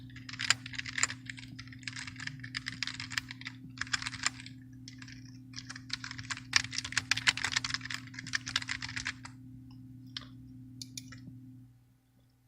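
Sign-up details typed on a computer keyboard, rapid clicking keystrokes in uneven bursts over a steady low hum, ending in a few isolated taps before fading out.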